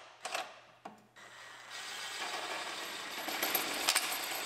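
A ratchet spins a subframe nut and bolt out of a Grand Am in a few short clicking bursts, then a quick run of faint mechanical ticking, close by with no talking.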